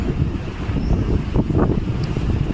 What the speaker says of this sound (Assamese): বতাহ বলি আছে, পূৰা হাৱাটো চলি আছে